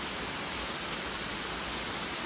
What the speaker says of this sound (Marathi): पावसा खूप